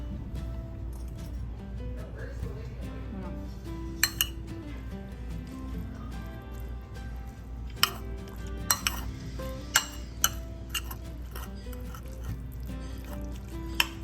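Cutlery clinks and scrapes against a plate while butter chickpeas are mixed over rice, a steady stirring with scattered sharp metal taps over a low background hum.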